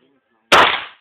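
A single sharp, loud gunshot cracks after half a second of near silence, then decays quickly over about half a second.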